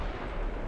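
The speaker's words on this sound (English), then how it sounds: "That was an ammunition explosion" An ammunition explosion aboard a warship in the naval combat game Ultimate Admiral: Dreadnoughts, a brief, dense, booming blast with heavy low rumble filling the whole moment at fairly low level, no voices over it.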